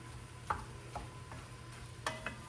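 Onions and ground meat for lasagna cooking in a pan, a faint low sizzle with a few soft spoon taps and scrapes spaced irregularly, quiet and unhurried.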